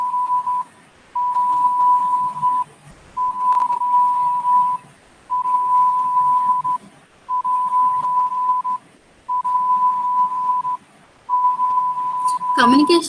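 Repeated steady electronic Morse code beeps at one pitch, seven long tones separated by short gaps, with faint talk in the background and a brief rising sweep at the end.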